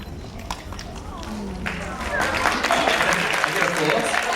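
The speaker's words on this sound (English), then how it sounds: "I get applause." A Q&A audience breaks into applause, a dense wash of clapping that grows louder partway through and continues, with voices mixed in.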